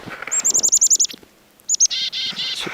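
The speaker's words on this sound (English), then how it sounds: "Chickadee here, chickadee in the net." A black-capped chickadee-type small songbird caught in a winter mist net gives a rapid series of bright repeated chirps, then pauses before a few more close calls and buzzy notes, with no talking.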